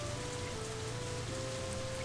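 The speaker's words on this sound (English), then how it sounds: "It's as if she doesn't even notice the rain drenching her shirt." Steady rain pours down in the Katawa Shoujo visual novel, a dense, even hiss of drops on surfaces with a low rumble beneath, constant throughout with no voices.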